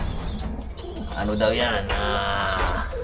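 Pigeons in a loft cooing steadily and close, soft repeated throaty coos over a constant background of birds, with someone speaking briefly over them.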